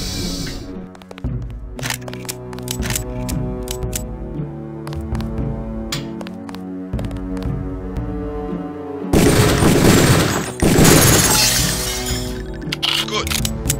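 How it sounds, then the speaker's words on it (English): Pistol shots hit training targets in the video game HX as a series of sharp, loud cracks and bangs over music, followed by a dense burst of shattering noise as a target breaks apart, with a voice speaking at times. "Release the first target and take a few shots with one of the pistols until it is destroyed."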